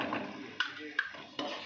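A spoon knocks against a pan three times in a slow, even rhythm while a tilapia fish curry with mustard paste is stirred. The sound is faint and close, over a soft background hiss.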